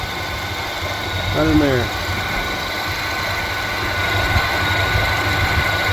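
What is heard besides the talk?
Mazda car engine idling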